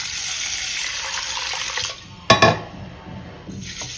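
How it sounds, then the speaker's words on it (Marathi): Horse gram washed with water in a vessel, a close running trickle and swishing for two seconds, then a brief clatter of the pot and more water after a short pause. "हे कुळीथ 2 ते 3 वेळा पाण्याने स्वच्छ धुवून घ्यायचं."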